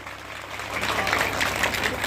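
An audience at a college student-union inauguration ceremony breaks into applause. The clapping starts soft and swells into a steady, fairly faint roar over two seconds.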